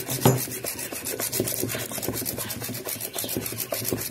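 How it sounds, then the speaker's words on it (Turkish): Quick, rhythmic scraping strokes of a whisk beating eggs and hot water in a bowl by hand, steady and close, with no voices. "Şimdi köpürene kadar çırpalım."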